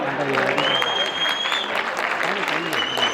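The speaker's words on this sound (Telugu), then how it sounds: "ఒక్కసారి వీళ్ళ కోసం గట్టిగా చప్పట్లు" Audience applause swells as a dense, continuous wash of many hands clapping at a lively event, loud and steady, with voices and cheering mixed in beneath it.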